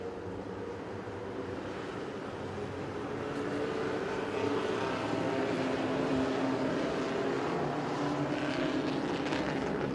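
Cajun mini stock race cars roar around the Crossville Speedway oval in a dense, continuous engine drone that swells slightly as the pack nears, steady and loud for the whole stretch.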